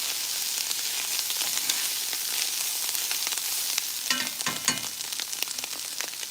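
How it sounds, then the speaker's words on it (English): Onions sizzle steadily as they caramelize in a pan for a home-cooked dinner, a dense continuous frying hiss with scattered crackles and a few louder pops and stirring scrapes near the end. "I want to see the onions caramelize"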